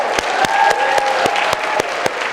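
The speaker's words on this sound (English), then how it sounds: "Let's give him a big round of applause." Applause from a conference audience for a colleague named Isaac fills the room, a dense continuous patter with sharp individual claps standing out at a steady rhythm.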